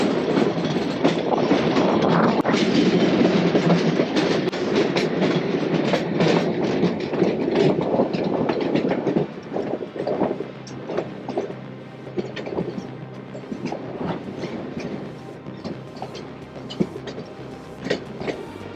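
A train runs on rails through a cutting between two hills at Devgarh, Rajasthan, a loud, steady rumble with rhythmic clickety-clack of wheels that eases slightly toward the end.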